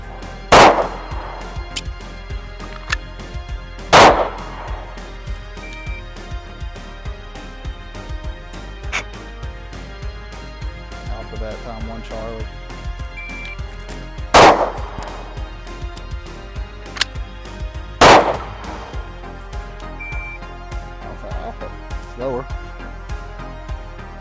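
SIG P320 pistol firing, with four loud, sharp single shots spaced several seconds apart and fainter clicks and handling noise between them.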